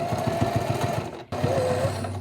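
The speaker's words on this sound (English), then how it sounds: "I just sew along here" Sewing machine stitching a fabric makeup bag, a steady close whirring chatter of the needle that pauses briefly midway then resumes, with no talk.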